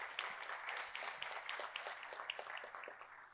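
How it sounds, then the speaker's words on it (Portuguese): Church congregation at a family worship service giving a round of applause, quiet and somewhat distant, with steady dense clapping and a faint low hum beneath. "Você pode dar uma salva de palmas em nome do Senhor Jesus?"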